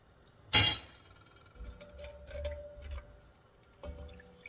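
A flour-and-water mixture is poured into a pan holding browned beef drippings for a gravy roux, starting with a sharp clink followed by soft splashing and sizzling bursts, close and fairly quiet.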